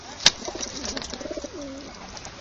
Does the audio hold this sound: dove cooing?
yes